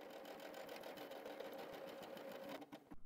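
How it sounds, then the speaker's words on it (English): A W6 N 5000 Exklusive sewing machine runs steadily, stitching buttonhole seams with a rapid, even mechanical whir and needle clatter, close and continuous before slowing and stopping near the end. "The machine will automatically stitch two uniform seams in the same direction."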